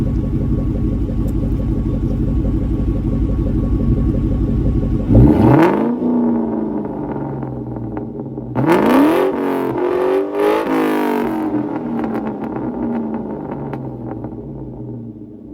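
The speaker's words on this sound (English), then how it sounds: "I'm gonna rev it." A car engine fitted with a straight-pipe Borla catback exhaust idles with a deep steady burble, then revs sharply twice, first in a quick blip and then a longer surge, loud and close with no talking.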